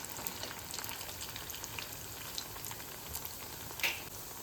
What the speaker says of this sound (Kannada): ಅಲ್ಲಿ ತನಕ ಹೀಗೆ ಫ್ರೈ ಮಾಡುವ.